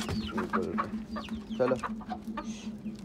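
Chickens and a rooster cluck repeatedly nearby in short bursts over a low background hum, with a brief spoken word in Hindi.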